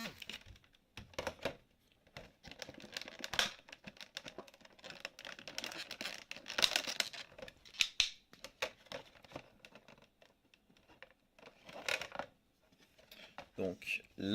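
Cardboard and foil packaging of a Pokémon Brilliant Stars Lanssorien VMAX Shiny collection box being handled and opened, with irregular crinkles, scrapes and tapping clicks up close, in quiet bursts of rustling across the whole stretch.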